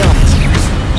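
An Expelliarmus disarming spell cast in Hogwarts Legacy: a brief, loud, booming magical blast with dense low rumble and a whooshing burst.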